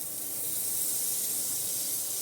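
Butter sizzles on a hot tawa for a sandwich, a steady, close hiss holding evenly throughout without a break.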